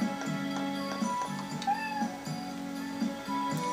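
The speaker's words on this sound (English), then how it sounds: "And here's a kitty." A cat meows repeatedly in the farming game Harvest Moon: Animal Parade, several short game-audio calls spread over a few seconds above a steady musical background, with no talking.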